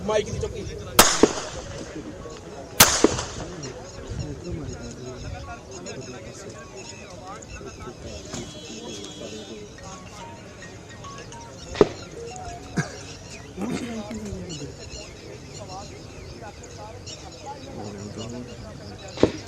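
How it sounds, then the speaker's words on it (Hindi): Several sharp, loud cracks of gunfire from an encounter in open country in a Punjab village near the Pakistan border ring out at irregular intervals, two close together early on and a few fainter ones later, with people talking throughout. "गोलियों की आवाज रुक रुक कर वहां पर अब भी सुनाई देती है।"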